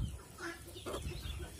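Chickens fed bread and bran cluck softly in a few short, faint calls over quiet farmyard background.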